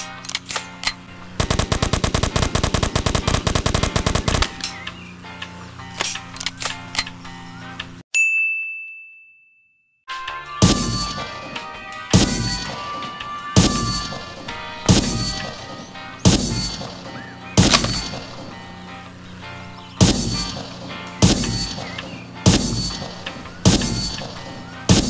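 Guns in the mobile game Dude Theft Wars fire a rapid burst of automatic shots, go briefly quiet after a single ringing ding, then let off a long run of evenly spaced heavy single shots, each with a ringing tail and mechanical reload clicks.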